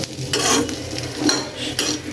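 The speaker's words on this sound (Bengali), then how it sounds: "এই যে কাঁচামরিচ আর রসুন ভেজে নিচ্ছি" Green chillies and garlic frying in a pan, a soft sizzle broken by repeated scraping stirs of a utensil against the metal, up close with no talking.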